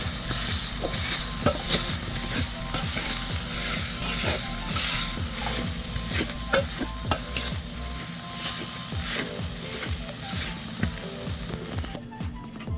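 Hot cooked green peas crushed fine under a varvanta grinding stone, a steady run of close, rhythmic scraping and knocking strokes with a faint sizzle beneath.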